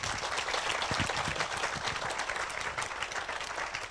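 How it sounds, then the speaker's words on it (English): A temple audience in Somerset, New Jersey gives the children a big round of applause: dense, steady clapping from many hands fills the room for the full stretch, with no voices over it. "let's give a big round of applause to all of them"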